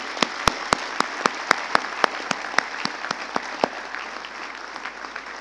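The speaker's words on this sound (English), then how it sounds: "give yourselves a round of applause because you more than deserve it" Graduates applaud at a medical college convocation ceremony, a broad wash of crowd clapping punctuated by a series of sharp, loud claps close by that thin out toward the end.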